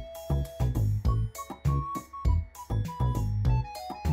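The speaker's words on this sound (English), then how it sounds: "That high-pitched screeching flute." Bouncy electronic music from the game Jumpix Jump with a thin, high flute-like melody that wavers slightly off pitch over a steady pulsing bass, played in short repeating phrases.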